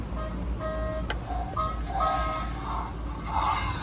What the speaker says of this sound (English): you get the sounds of the Nissan.